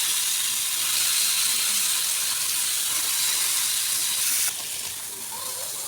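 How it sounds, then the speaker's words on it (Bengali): Rohu fish pieces rubbed with salt and turmeric fry on a tawa with a loud, steady hiss and sizzle that drops slightly in level toward the end. "মাছটা একটু ভাজা ভাজা করে নিচ্ছি"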